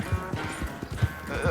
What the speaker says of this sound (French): Son cheval est aux abois.